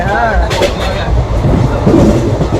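A passenger train rolls along with a loud, steady rumble and faint rhythmic wheel clatter close by, with a brief squeal near the start and voices heard under the noise.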